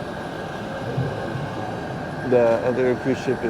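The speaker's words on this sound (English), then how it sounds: "You see the train is still, the little tram is still with us," An electric tram locomotive at the Panama Canal rumbles and hums as it runs alongside a ship, with a faint squeal of wheels on the rails, while a person talks over it.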